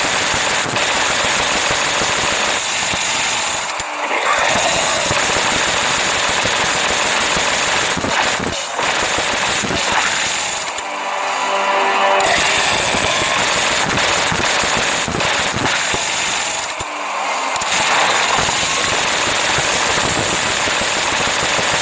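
Minigun 2.0 in the video game Last Day on Earth fires in long sustained bursts: a loud, dense, rapid mechanical roar broken by a few brief pauses over about twenty seconds, with no talk.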